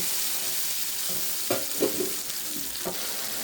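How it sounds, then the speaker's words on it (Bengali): Spice masala for an egg curry, made with chili powder, turmeric and salt, sizzles steadily in a pan, with several short scraping stirs from a spatula. "এই মশলাটা ঢেলে দিব, ঢেলে দিয়ে ভালোভাবে কষিয়ে নেব।"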